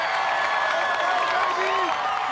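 A live crowd cheers and applauds at an American Ninja Warrior obstacle course, a steady dense roar of voices with clapping mixed in, loud and continuous for the whole stretch.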